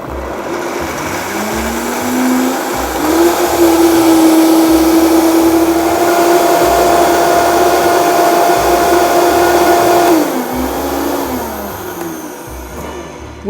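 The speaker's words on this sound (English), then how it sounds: "We're just going to go ahead and blend that up" A blender whirs steadily while blending cashew sour cream, its motor spinning up, holding a loud, even drone for several seconds, then winding down.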